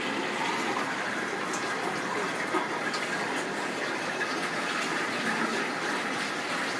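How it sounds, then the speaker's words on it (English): Mobile home toilet with the water supply shut off, flushed and draining: a steady rushing, gushing wash of water, close and even throughout, with no one talking. "flush it"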